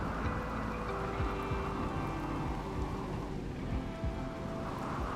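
Steady, dense rain with low rumbles of thunder from a storm in the video game RimWorld, continuous and even in level throughout with no voices.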